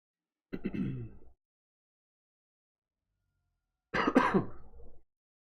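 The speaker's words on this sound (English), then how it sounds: "Excuse me for the cough, got a little bit of a cold going on." Two separate coughs from a man with a cold, each short, rough and close, the second longer and harsher, with silence between them.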